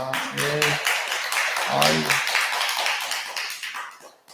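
Audience clapping at a Buddhist dharma service at a temple, a steady patter of many hands lasting several seconds, with a voice speaking over it and the applause tapering off at the end.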